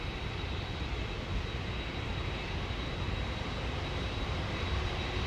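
A Swiss International Airlines jet airliner at London Heathrow Airport, a steady, broad engine roar filling the air at even loudness throughout, with no voices over it.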